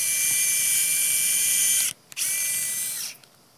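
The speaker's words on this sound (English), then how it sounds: "And then at the upper end of the prepared area, we drill the hole." A surgical power drill boring a hole in the upper humerus through a slotted drill guide, a high whining buzz running in two bursts separated by a short stop, close and loud.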